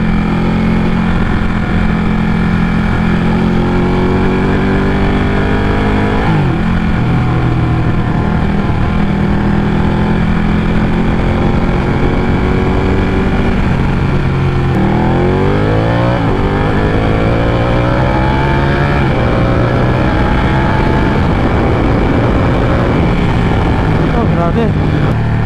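A Ducati Panigale 1199 sportbike weaves nimbly through traffic, its engine rising and falling through several gear shifts in loud, close rolling revs with wind noise throughout.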